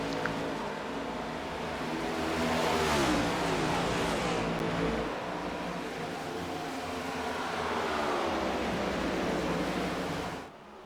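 Race car engine in a NASCAR-style cup series video game at Pocono rises in a loud, sustained throttle roar, swelling and holding for several seconds before cutting off abruptly near the end.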